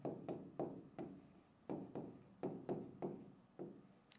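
Writing on a board during an English lesson comes through as a quick series of short, distinct scratchy strokes, about a dozen in irregular rhythm, close and fairly quiet.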